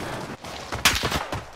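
Bursts of gunfire from the Warzone shooter game crack out in quick, uneven shots, a sharp loud report standing out in the middle of the short sequence, with scattered game noise around it.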